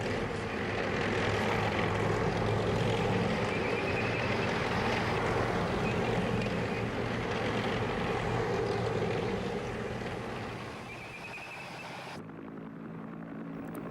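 Steady, loud drone of an American military propeller aircraft engine over the Vietnam War's Iron Triangle, holding for about twelve seconds and then cutting off abruptly.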